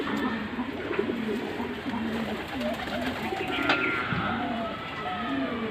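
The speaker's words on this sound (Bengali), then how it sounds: "এটা হচ্ছে মাদি কবুতর।" Pigeons kept at a home loft coo repeatedly, soft, low, rolling calls in a loose rhythm, close by over a faint background murmur, including a female pigeon.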